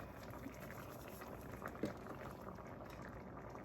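Cajun chicken and rice simmers in a covered pan, a steady low bubbling and gentle patter running throughout with one brief soft knock midway, and no one speaking.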